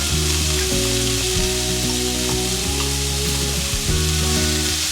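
Drained black beans and frozen corn hiss and sizzle steadily in a hot pan, a loud, continuous frying sound with no talking over it.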